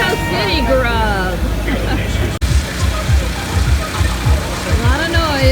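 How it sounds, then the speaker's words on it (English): Food truck engines rumble steadily at a horse race track at night, a loud low drone with throbbing pulses beneath voices and crowd chatter. "The trucks are making a lot of noise."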